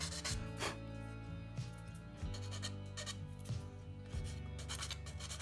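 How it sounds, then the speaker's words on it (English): Irregular rasping sanding strokes scrape at an angle over the plastic surface of an Airfix Hawker Hurricane Mk.1 scale model while music plays steadily underneath. "just sanding at a bit of an angle here."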